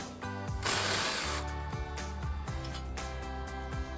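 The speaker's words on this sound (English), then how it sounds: "grab our impact with our 19mm socket and take our nut off" An impact wrench with a 19mm socket rattles and hammers on a nut on the front coil-over of a 2005-2023 Toyota Tacoma, with repeated rapid bursts and brief pauses, close and fairly loud.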